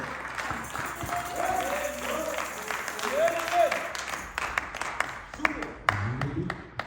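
A church congregation claps and cheers steadily throughout a worship service, a broad wash of applause heard beneath a preacher speaking.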